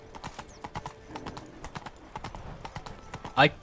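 Horse hooves clip-clopping at a steady trot through a town in The Witcher 3, a continuous rhythmic patter under game music and ambience, closing with a brief louder whinny-like cry near the end.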